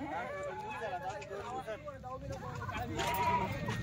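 A hungry Kathiawadi male goat just unloaded from a truck bleats repeatedly at close range, its cries mixed with people talking and general farmyard bustle.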